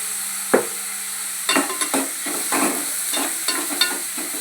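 Onions sizzle in a pan after salt goes in, with a utensil stirring them in several soft scraping strokes at close range over a faint, steady frying hiss.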